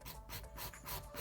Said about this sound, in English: We are going to hand file this now to perfection.